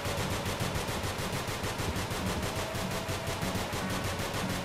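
Rapid automatic gunfire in the video game NONGUNZ, a dense, unbroken stream of loud, evenly spaced shots rattling on for several seconds with no talking.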